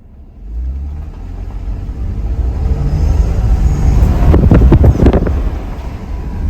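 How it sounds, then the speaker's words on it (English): A 2022 Toyota Tundra SR5 TRD Off Road in 4 high, driving off-road as its turbos spool up, the engine note rising over steady wind buffeting on the microphone and peaking near the end, loud and close, with no talking. "you heard the turbos just go up a little bit"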